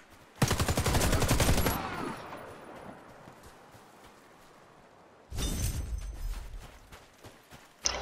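Two loud bursts of rapid automatic gunfire in the video game Warface, on the Icebound map in free-for-all play: a dense volley near the start, a quieter stretch, then a second sustained burst near the end.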